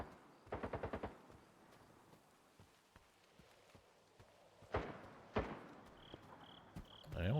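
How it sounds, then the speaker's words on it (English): Gunfire in the STALKER 2 video game: a quick burst of five rapid shots early, then two louder separate single shots a few seconds apart, over a quiet ambient background with faint insect-like chirps. "Oh, there's gunfire."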